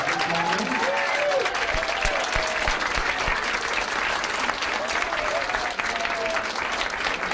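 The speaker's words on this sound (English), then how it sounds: "A round of applause." Wedding guests clap as the newlyweds take the dance floor for the first time, dense steady applause with whoops and whistles early and scattered cheers later, lasting the whole stretch.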